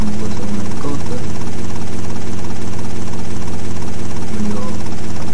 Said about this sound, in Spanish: Y para esto también tenemos que usar un helicóptero.